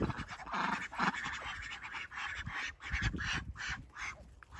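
Several ducks quack in quick, uneven bursts nearby, with some scratching and shuffling between calls.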